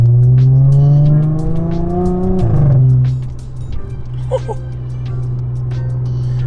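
An Audi S4 with a loud valved exhaust revs hard, its note climbing for a couple of seconds before dropping sharply and settling into a deep, steady idle burble, close and prominent.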